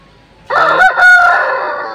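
A single rooster crows up close, one loud, drawn-out cock-a-doodle-doo that rises and then trails off, following a brief quiet moment.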